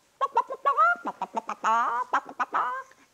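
Chickens cluck up close in quick bursts, a busy run of short clucks and drawn-out squawks with brief gaps between them.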